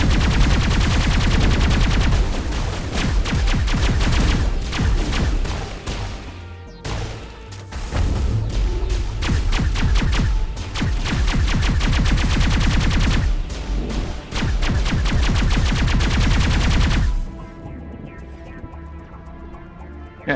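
Rapid automatic gunfire from the player's weapon in the video game Mass Effect, loud and dense bursts that pause briefly around seven seconds and stop near seventeen, giving way to quieter ambient game sound.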